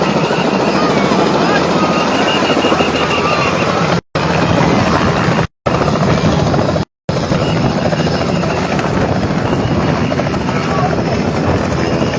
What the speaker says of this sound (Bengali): হেলিকপ্টার